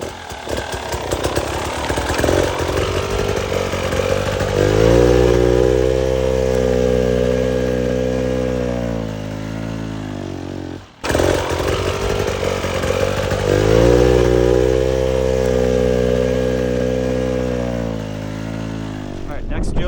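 Hard enduro dirt bike engine revving loud and close as it climbs diagonally off-camber up the back of a ramp, a steady droning two-stroke note with rising and falling revs, briefly cutting out near the middle before picking up again.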